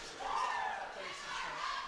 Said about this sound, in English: It's a big crowd here tonight.